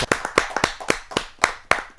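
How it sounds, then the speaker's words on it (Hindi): At a Hindi poetry gathering (kavi sammelan), sharp individual hand claps ring out close and distinct, around a dozen in an uneven rhythm, sounding like a small audience rather than a full crowd. "जोरदार तालियों के साथ हम उनका"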